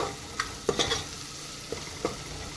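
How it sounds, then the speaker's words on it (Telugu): Turmeric masala with ginger-garlic paste is stirred and fried in a pan for mutton curry, giving a soft steady sizzle with a few sharp scrapes and clicks of the spoon against the pan. "పసుపు యాడ్ చేసుకొని మంచిగా కలుపుకోవాలి. ఈ పచ్చి పలసన పోయే వరకు వేయించుకోవాలి."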